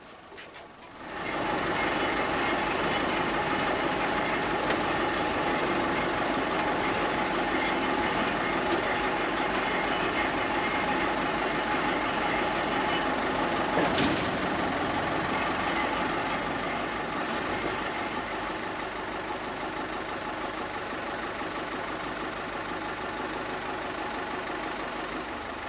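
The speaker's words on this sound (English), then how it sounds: "So I ran the machine a little bit just with the diesel in the upper gearbox." A Lima 34 Paymaster machine's diesel engine runs with the upper gearbox engaged, a steady, loud, droning chug that holds evenly throughout with a faint metallic whine above it.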